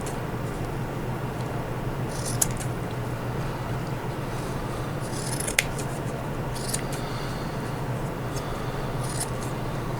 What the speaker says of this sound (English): So I'm going to cut some of these down here.